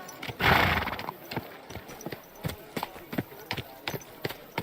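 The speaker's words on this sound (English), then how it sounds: "Easy, good horse." A horse whinnies loudly near the start, followed by a steady run of clip-clopping hooves at an even walking rhythm, with no other sounds, in the video game Kingdom Come: Deliverance II.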